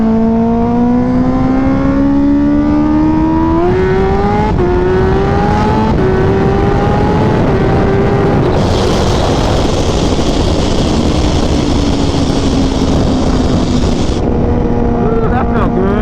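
A Kawasaki Ninja H2 accelerates hard, its engine pitch climbing through several gear changes with a sharp high-pitched whine surging midway, loud and close, with a voice speaking briefly.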